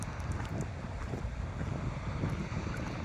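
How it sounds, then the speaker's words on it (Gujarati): Strong wind gusting across open farm fields in cold weather, a steady, loud low roar of buffeting against the microphone with no voices. "અત્યારમાં પવન થોડોક વધારે છે."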